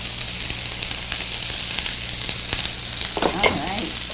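Broccoli, cauliflower and garlic frying in a pan, a continuous loud sizzle with scraping stirring strokes that grow busier toward the end, no one speaking.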